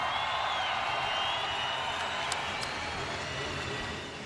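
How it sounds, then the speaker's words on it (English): An audience applauds steadily at a live Harley-Davidson event, a dense, even wash of clapping that fades slightly at the end. "One more round of applause, you guys"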